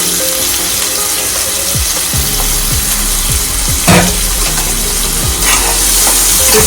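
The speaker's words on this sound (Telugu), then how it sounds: "ఇందులో కట్ చేసి పెట్టుకుని ఆనియన్స్ వేసేసుకోవాలండి" Chopped onions frying in a kadai over tempering spices, a loud, steady sizzle of hot oil with occasional stirring scrapes, close and continuous.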